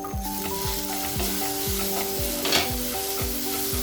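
Tomato and onion masala for prawn roast sizzling in a pan, a dense frying hiss with regular rhythmic scraping strokes of a spoon stirring, close and loud, under a steady low tonal hum.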